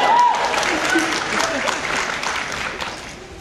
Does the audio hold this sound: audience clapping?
yes